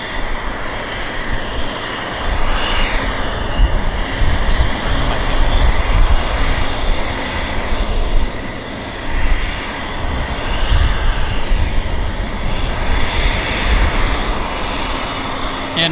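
An aircraft at Vancouver Airport produces a loud, sustained engine roar with a broad, steady rushing tone that holds for the full stretch, heard close and alone without speech over it.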